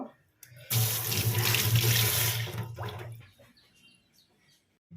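Running tap water splashes loudly over cut fish being washed in a sink for about three seconds, then stops, leaving brief faint clinks and quiet handling noises.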